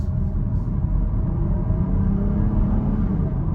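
A 2022 Jeep Grand Cherokee L Limited accelerating at one-third throttle on a multi-lane highway, a steady low engine and road rumble heard from inside the cabin, with no talk.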